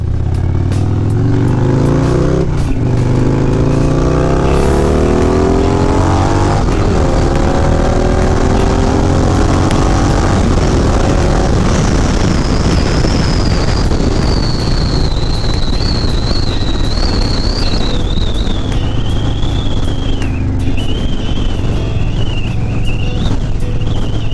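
A 2023 Harley-Davidson Road King with a stage 2 tuned 114ci engine being ridden, its deep engine note climbing through the gears under heavy wind buffeting, loud and close, with a high whistling tone appearing partway through.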